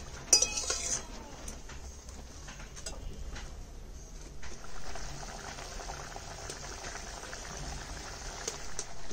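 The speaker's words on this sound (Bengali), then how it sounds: "ঝোলও ফুটে গেছে, আলুটাও সেদ্ধ হয়ে গেছে" Fish curry gravy with potatoes boiling in a pot for a tangra and khoyra fish jhol, a steady low bubbling with a few faint clinks near the start, no voices.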